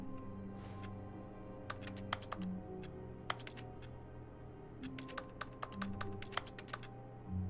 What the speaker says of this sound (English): Oh, I can click the buttons on the keyboard?